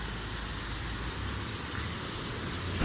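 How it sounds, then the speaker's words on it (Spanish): Hailstorm in Buenos Aires in October, easing off: a continuous dense hiss of ice and rain striking surfaces nearby, with low rumbling underneath and no voices. "ahora cada vez el granizo va despacito"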